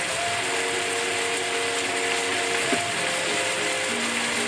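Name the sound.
spinning zucchini noodles to remove juice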